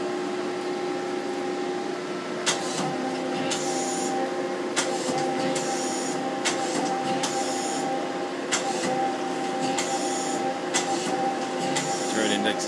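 A 2003 Daewoo Puma 400B CNC lathe jogs its axes with a steady mechanical whine and hum, broken by repeated short clicks and servo pulses, while a person talks over the machine noise.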